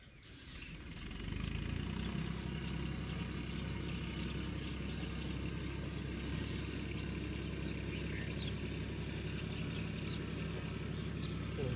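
A tractor engine runs steadily throughout, a continuous low idling rumble that rises in the first second and then holds at a constant level, with no clear speech over it.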